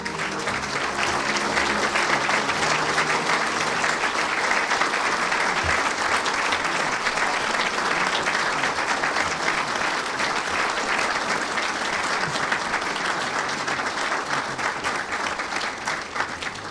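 A crowd at a Vietnam veterans honoring ceremony applauds, dense sustained clapping that holds steady and loud for well over fifteen seconds with no talk over it.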